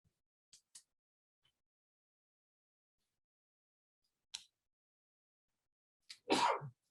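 At a school board meeting, after a few faint clicks and rustles in near silence, a single loud sneeze bursts out close by near the end.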